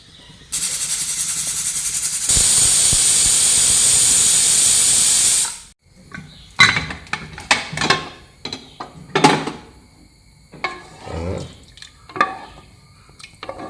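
A pressure cooker whistle releases a loud, steady hissing burst of steam lasting several seconds, then cuts off, followed by scattered clatters and light knocks nearby.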